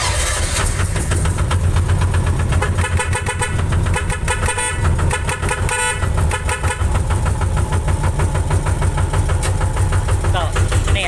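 A hand-started Thai i-taen farm vehicle engine runs close and loud, a dense, steady chugging that carries without a break the whole way through.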